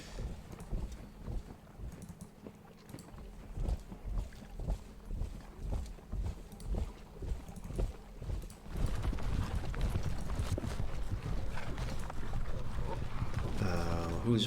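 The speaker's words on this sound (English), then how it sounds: "What's this? Some more horses." Horses clip-clop in steady, rhythmic hoofbeats in a Thirty Years War wargame set at the Battle of Breitenfeld, running under a dense game soundscape that grows louder partway through.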